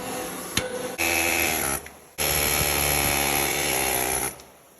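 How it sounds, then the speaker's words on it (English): An air hammer fitted with a punch rattles loudly while knocking out semi-truck brake parts, running in bursts with brief gaps between them and a longer final stretch before it stops. "then we used the air hammer with a punch on it"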